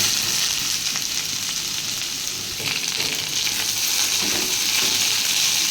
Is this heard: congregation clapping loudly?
no